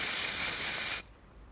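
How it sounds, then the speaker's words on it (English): Winsor and Newton fixative spray is applied to artwork, giving one loud, steady aerosol hiss that lasts about a second and then cuts off abruptly into quiet room tone. "apply additional coats as needed for extra protection"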